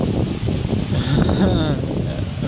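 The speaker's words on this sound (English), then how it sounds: "forgive me for the wind" Wind buffets a microphone outdoors beside trees, a steady loud rumbling gust noise that runs through the whole stretch with no talking.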